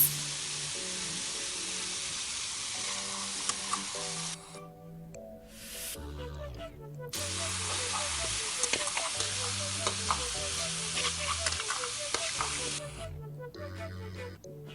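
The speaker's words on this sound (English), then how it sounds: "To this I am adding in some chopped onions." Chopped onions and green peas fry in a pan with a loud, steady hiss, briefly dropping away midway before the sizzle returns, with occasional stirring strokes and music playing underneath.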